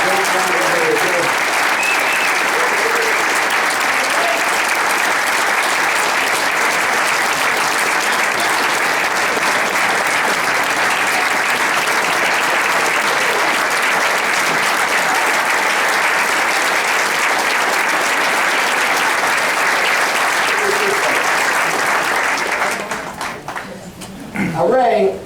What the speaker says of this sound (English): And Ray, let's start by giving you a round of applause.